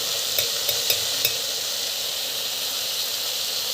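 Onions sautéing with chili powder in a pan give a steady broadband sizzle, with a few soft scraping stir strokes early on and no talking.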